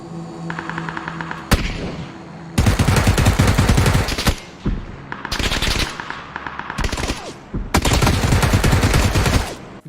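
Automatic gunfire in the video game PUBG, with several long sustained bursts of rapid shots separated by short pauses and a single sharp shot just before them, loud and close.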